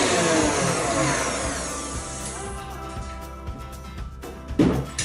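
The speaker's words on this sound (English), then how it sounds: "Hear the motor slowing down." A stand mixer whipping Italian meringue buttercream, its loud motor whine audibly dropping in pitch and slowing as the mixture thickens, followed by a faint thump near the end.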